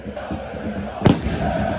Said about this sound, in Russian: Уже полетели петарды.